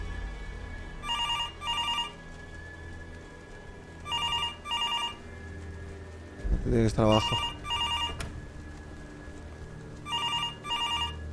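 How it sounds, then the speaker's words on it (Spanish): An old 1980s-style telephone bell rings in repeated double bursts in the horror game Left to Rot, over a low ambient hum, with a brief burst of louder game noise midway and a short spoken line. "Los móviles desde siempre suenan como un teléfono de los años 80"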